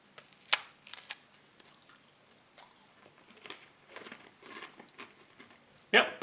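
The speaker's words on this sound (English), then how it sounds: "I'm gonna try the crackers." Bites and crunchy chewing on a cracker from a 2010 US MRE, Menu 19 Beef Roast with Vegetables, come as scattered close crisp crackles with a sharp crunch near the start and a louder burst at the end.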